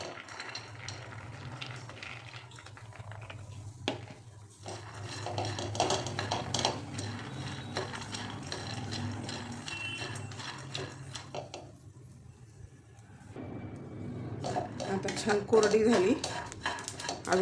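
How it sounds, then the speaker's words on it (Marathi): Dry soaked lentils rattle and scrape against a metal kadhai as they are roasted, stirred and tossed, with intermittent clanks of a utensil and speech-like murmur. "आता कढई ठेवली तापण्यासाठी आणि आपल्याला आता डाळ भाजून घ्यायची"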